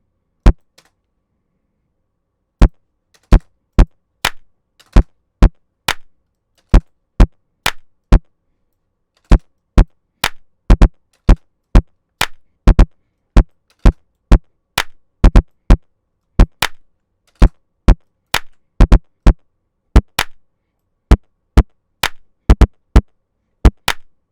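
Kick drum pattern built from an 808 in FL Studio, punchy isolated booming hits in a syncopated rhythm, loud and dry with no talking.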